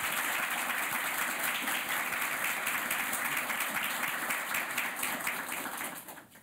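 A studio audience applauds an invited guest, a historian, with a steady, moderately loud wash of clapping that tapers off at the close.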